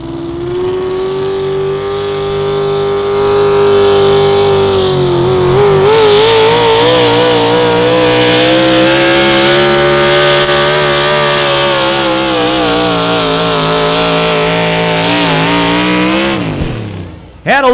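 Modified 4x4 truck roaring at full throttle during an outlaw truck pull in Madison, South Dakota, a loud sustained engine howl with rising and wavering pitch for most of the clip before cutting off near the end.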